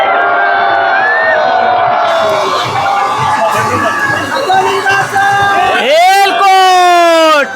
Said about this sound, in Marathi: जल्लोष जबरदस्त आहे